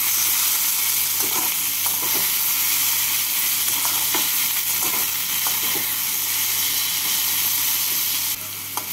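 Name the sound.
chopped tomato stirred with frying onions in pan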